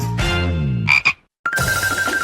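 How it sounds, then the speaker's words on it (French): A cartoon frog croaks loudly and close, two short wet croaks followed after a brief silence by a longer buzzing croak, heard alone. "Oh non! Pas la grenouille!"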